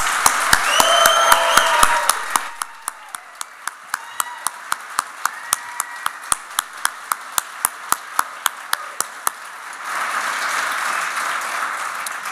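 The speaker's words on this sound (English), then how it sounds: "please, all of you, stand and be recognized for one final round of applause" Standing applause for business leaders at a chamber of commerce leadership celebration held in a community center hall, a full crowd clapping at first, thinning to a few sharp, rhythmic claps, then swelling into broad applause again.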